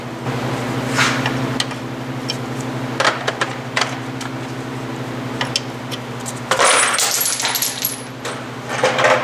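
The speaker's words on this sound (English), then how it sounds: "drop all your Allen keys in the ground" A handful of Allen keys hits a garage floor at night, with scattered metallic clinks and rattles across the clip and a louder jangling spill near the end, beside a steady low hum.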